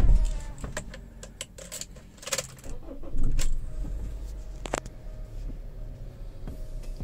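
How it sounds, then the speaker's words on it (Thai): A 2006 Honda CR-V with a 2.0 engine starts up: keys jingle and click, then the engine briefly turns over and settles into a low, steady idle. "เดี๋ยวสตาร์ทรถกันดูนะ"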